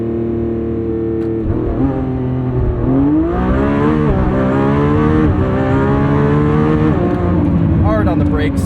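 A 2025 Lamborghini Revuelto, the 1,001 hp V12 flagship, launches at full throttle: the engine holds a loud, steady rev, then howls upward through a run of quick gear changes, close and dominant throughout.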